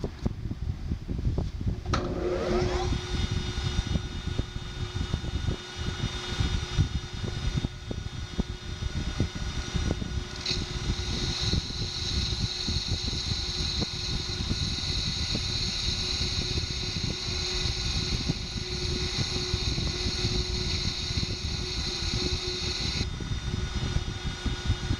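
A metal lathe machining a part for an internal square chuck key runs with a steady motor whine and a rumbling cut, plus a sustained high tone from the spindle, continuous and close throughout with no talk.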